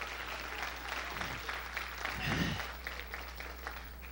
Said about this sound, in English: Give the Lord a good clap over it.